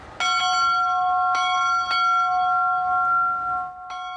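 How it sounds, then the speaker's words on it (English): Memorial bell rung in Yamada, Iwate, in remembrance of tsunami victims: a few clear metallic strikes, each followed by a long ringing hum that lingers between hits, with no voices. "a man has been ringing this bell almost every day to commemorate those who died in the disaster"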